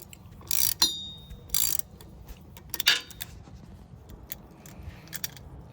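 A ratchet clicks in quick bursts while loosening drive shaft bolts on a 2015–2022 Chevy, sharp close ratcheting rasps separated by small metallic taps and pauses.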